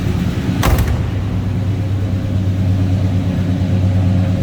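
A 1976 Oldsmobile Cutlass Salon runs with a steady low engine rumble heard from behind the car, loud and close, with a brief sharp knock near the start.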